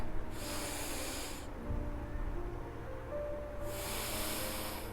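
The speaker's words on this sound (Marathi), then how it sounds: "या पद्धतीने दीर्घ श्वास भरा" Slow, deep breaths drawn during a pranayama exercise, heard as two long airy inhalations or exhalations separated by a quieter pause, close and steady, with no talking.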